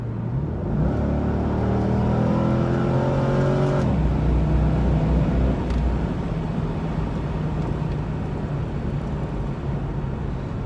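A C5 Corvette with factory exhaust and no performance parts revs up with a rising engine note for a few seconds, then settles into a steady, loud drone as it cruises.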